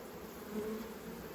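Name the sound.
honey bees buzzing at the hive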